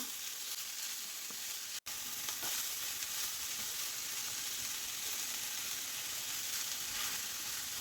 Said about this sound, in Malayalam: ഈ എണ്ണയും കടുകും ഉഴുന്ന് പരിപ്പുമൊക്കെ എല്ലായിടവും ഇത് ബീട്രൂട്ടിൻ്റെ എല്ലായിടവും എത്തുന്ന വിധത്തിൽ നമുക്ക് ഇളക്കി കൊടുക്കാം